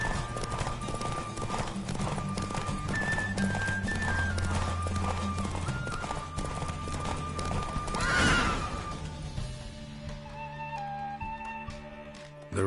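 Horse hooves clip-clop at a run with several neighs and whinnies in The Witcher 3, layered over game music and ambience; a louder burst hits midway before the gallop eases off.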